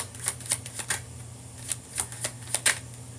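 Tarot cards are shuffled and drawn in quick, uneven flicks and snaps, a string of crisp close-up card sounds played softly over a low steady background hum.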